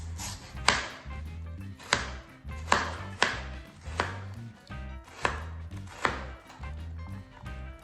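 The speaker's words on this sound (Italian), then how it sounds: "Tagliata la zucca a dadini, facciamo lo stesso con le patate." A knife dices potatoes on a cutting board for a pumpkin and potato risotto, with about nine steady, crisp chops at an even pace, close and clear with no talk.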